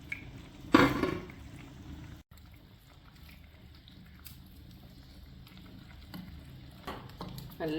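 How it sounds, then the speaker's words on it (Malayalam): Sardine curry with ground coconut paste simmering in a pan on a home stove: a sharp clatter near the start, then a soft, steady bubbling and sizzling close by with no voices. "അരവ് നല്ലപോലെ തിളച്ചിട്ടുണ്ട്"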